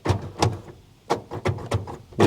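Power door locks on a Knight Rider Trans Am promo car actuate in a series of short, sharp clunks, about six bursts spaced irregularly, close and fairly loud with no talking.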